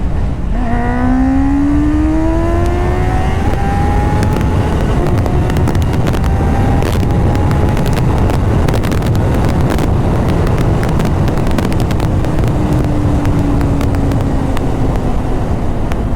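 Honda CBR 650R motorcycle riding on an open road, its engine note rising in smooth upward sweeps through the gears, buried under strong steady wind rush on the microphone throughout.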